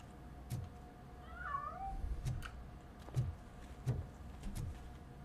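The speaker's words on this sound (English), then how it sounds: "That cat must be hiding inside." A cat meows in the video game RoboCop: Rogue City, giving a few short, rising-and-falling mews in the middle distance over quiet ambient noise and soft intermittent thumps.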